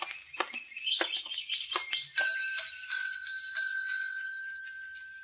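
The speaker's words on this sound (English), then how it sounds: "There's a bell over there on the desk." A desk bell on a hotel reception counter rung once, a bright metallic ding that rings out and slowly decays, preceded by a few chirpy clinks and scuffs.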